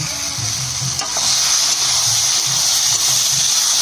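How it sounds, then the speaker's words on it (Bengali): Potatoes for a fish curry sauté in a pan, giving a continuous hissing sizzle with soft periodic stirring sounds, close and steady. "ঢাকা দিয়ে একটু কষে নেব। আলুটা কষানো হয়েছে নাকি দেখে নেব।"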